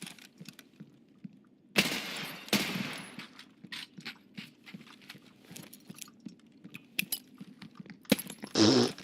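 Gunfire in the Escape from Tarkov PvE video game: several loud, sharp bursts of shots in a quiet match, with smaller clicks and handling noises scattered between them.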